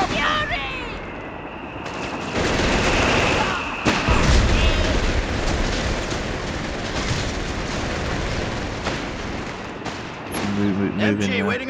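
Mortar fire in Company of Heroes 3, deep booming blasts and rumbling impacts mixed with scattered gunfire in a loud battlefield din, with a voice speaking over the barrage.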